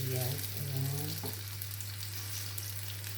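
Onions fry in a pan with a quiet, even sizzle, while a low steady hum runs underneath and a short voice-like sound is heard at the start.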